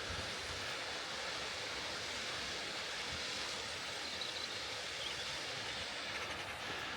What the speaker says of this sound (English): Waterfall looks nice though.